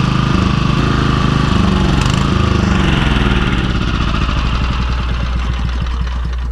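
A lawn mower engine runs loud and close with a steady, rumbling drone, then turns rougher and more sputtery toward the end as it runs out of fuel and begins to stall.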